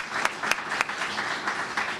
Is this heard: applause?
yes